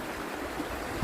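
River water runs steadily down through a narrow V-shaped funnel and slips across bedrock, a continuous close rushing stream with no talk.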